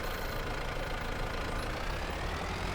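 A tractor engine in Farming Simulator 22 idles steadily among Italian grape vineyards, a low, continuous rumble with a faint knocking texture, alone and unbroken.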